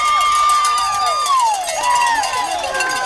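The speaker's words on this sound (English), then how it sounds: "And listen to those crowd." Crowd at a high school softball game in Lone Oak, Texas, cheering loudly after the final out of a series win, with sustained shouts and whoops close by over several seconds and an announcer talking over the noise.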